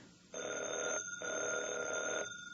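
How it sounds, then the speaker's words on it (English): An old-fashioned telephone bell rings in two long bursts separated by a short pause, loud and close, with no one talking over it. "Evans, did that phone ring?"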